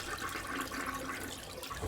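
Toilet flushing in a nearby bathroom of a workshop, a steady rushing of water heard faintly and continuously throughout, with no voices over it.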